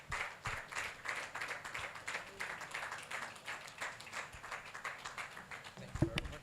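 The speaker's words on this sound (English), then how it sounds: "A round of applause. Keep clapping." A conference audience at a live sales event applauds steadily throughout, a dense, continuous wash of clapping with a louder burst near the end, the hall filled with sustained crowd noise.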